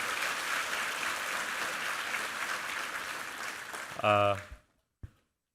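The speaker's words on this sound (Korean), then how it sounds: "우리 수고한 드라마 팀에게도 한번 힘찬 격려의 박수 한번 부탁합니다" A church congregation applauds the drama team during a Sunday worship service, sustained loud clapping from a large crowd that ends with a brief voice and a short musical chord, then silence.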